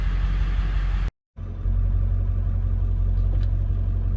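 A truck with a 7.3 Powerstroke diesel engine rumbles steadily on a test drive, loud and close. The drone drops out for a moment, then resumes as an even low roar.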